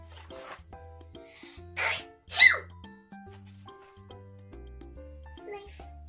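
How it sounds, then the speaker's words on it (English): A child sneezes twice in quick succession, short bursts over a cartoon-like setting with soft plinking music and jingling in the background. "What if pigs make me sneeze?"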